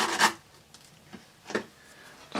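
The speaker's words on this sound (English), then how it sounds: "Again, using the sandpaper." A purple colour pencil tip is rubbed on sandpaper in a few short, dry rasping strokes, close and fairly quiet, with brief pauses between them.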